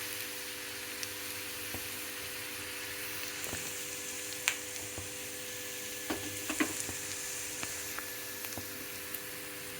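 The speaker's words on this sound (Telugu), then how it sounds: "కొద్దిగా వేగినాయి ఉల్లిపాయలు, ఆకుకూర అనమాట." Onions and amaranth greens fry in a pan with a steady, fairly soft sizzle, broken by a few light clicks and scrapes as they are stirred.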